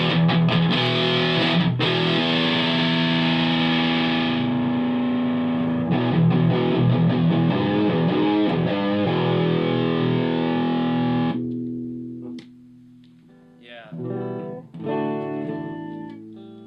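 Electric guitar played through a Bugera T50 Infinium tube amp with heavy distortion, thick sustained chords ringing loud and full before cutting off, then a few shorter distorted strums near the end.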